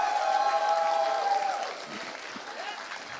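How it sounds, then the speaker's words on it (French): A hall full of people applauds at a Quebec esports gala for 2023-24: a sustained wash of clapping under a voice, easing to a lower level partway through. "j'aimerais que vous donniez une main d'applaudissement d'être ici en ce moment en train de marquer l'histoire du Québec"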